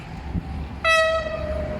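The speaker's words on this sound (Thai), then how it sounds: "ตอนนี้ก็รถไฟมาแล้วนะครับ ผม" A train arriving at a Thai railway stop on the way to Bangsaen, a loud sustained horn blast cutting in over the low rumble of the approaching train.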